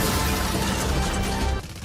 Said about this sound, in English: this semi-truck scene as it comes crashing down into the canal